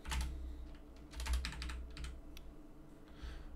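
Rapid bursts of typing on a computer keyboard during a programming session, clustered keystrokes with short pauses, close and fairly quiet over a low background hum, no talk.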